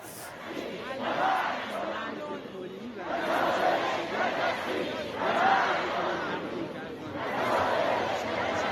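Street protest crowd in Tehran chanting slogans against America and Israel, loud rhythmic group shouts rising and falling in four waves over a steady crowd murmur.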